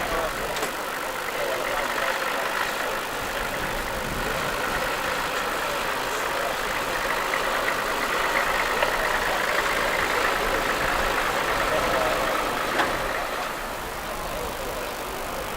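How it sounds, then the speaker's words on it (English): A 1940 Bedford MW recovery truck idles at a road run rally in the Pennines, a steady, even engine rumble with faint knock, held at constant level throughout with no pauses. "Here's another Bedford MW recovery, also dating from 1940, and again entered by Bob Parker"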